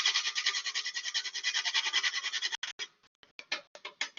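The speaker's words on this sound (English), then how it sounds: "I'm just going to grate it right in there." A whole nutmeg seed is grated on a hand grater, giving a rapid, rhythmic rasping scrape up close for about two and a half seconds, then slowing into several separate strokes.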